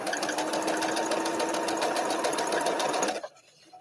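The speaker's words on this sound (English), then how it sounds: "You get to see a little bit of the sewing machine." A sewing machine runs steadily at speed while stitching a quilt block, a loud close mechanical whir with rapid rhythmic needle pulses that stops abruptly near the end.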